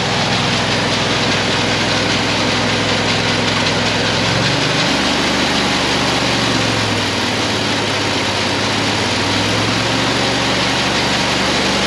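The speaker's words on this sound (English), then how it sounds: "You can hear that auger, it's throttling down, it's almost dying." A fertilizer auger on a farm strains under a heavy load, its engine droning loud and steady, then sagging lower in pitch around the midpoint as it bogs down, recovering partly before dipping again.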